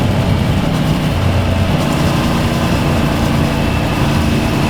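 Steady roar of a motorcycle engine while riding, constant and loud with broadband wind rush, no breaks or shifts across the stretch.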